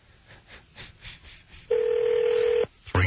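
A telephone call rings through over the line: quiet background noise, then a single steady ring tone lasting about a second, a short gap, and the next ring starting.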